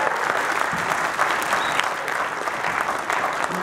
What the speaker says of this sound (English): I'm sure that applause is for him